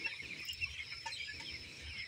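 A flock of 18-day-old broiler chickens clucks in a poultry shed, a soft continuous murmur of low calls with a few brighter chirps, steady and moderately close, with no talking.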